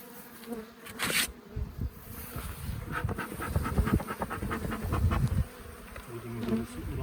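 Honey bees buzz around hive frames while a colony is inspected, a dense, close, continuous droning hum with some faint handling knocks, no talk.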